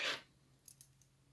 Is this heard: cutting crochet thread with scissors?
yes